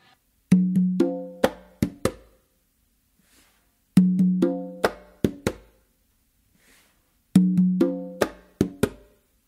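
Conga tumbao pattern with open tones, palm slaps and bass strokes, repeated three times as a rhythmic phrase of ringing drum hits, close and clear with short pauses between repeats, no talking.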